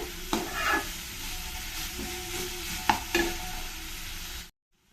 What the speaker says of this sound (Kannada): ಮೆಂತ್ಯ ಸೊಪ್ಪು ಎಣ್ಣೆಯಲ್ಲಿ ಫ್ರೈ ಆಗ್ತಾ ಇದ್ರೆ